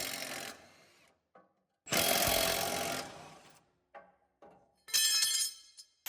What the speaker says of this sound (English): To sharpen the blades, I'm using probably a 40 grit flat disc on an angle grinder.